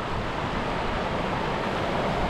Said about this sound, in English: Just a couple more waves coming in.